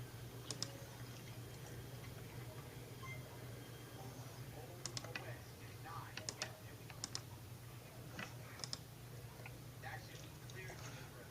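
Computer keyboard typing comes in short, scattered bursts of clicks over a steady low hum, with quiet talk in the background.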